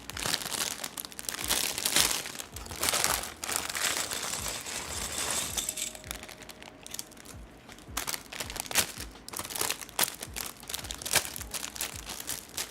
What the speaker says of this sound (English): And of course, you got bag number 1. Ooh, crinkly.